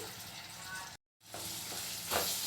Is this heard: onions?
yes